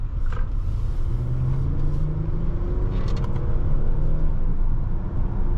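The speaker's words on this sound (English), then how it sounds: "Nice and smooth acceleration." A 2024 Hyundai Palisade Calligraphy pulls away smoothly, its engine making a steady loud low rumble that rises gently as the vehicle gains speed, heard from inside the cabin with no talking.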